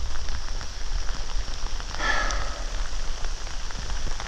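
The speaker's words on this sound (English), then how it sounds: "now it's raining" Steady rain falling on a backpacking camp in Sarek National Park, a dense continuous patter of drops hitting the tent and ground, close and even throughout with no voices.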